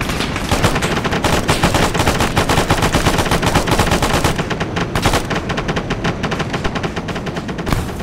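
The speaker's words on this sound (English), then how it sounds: "I fired a machine gun." Sustained machine gun fire in Arma 3, a loud, rapid, steady stream of close shots that runs for several seconds without pause and with no talking over it.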